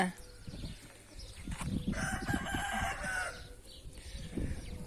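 Chickens cluck and squawk nearby, with a rooster-like call in the middle, over scattered rustling and a little talking.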